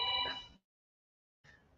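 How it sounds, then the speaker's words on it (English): A telephone bell rings in a short electronic trill, then falls silent before a fainter second ring begins, heard fairly quietly on its own. "Excuse me for that phone ring"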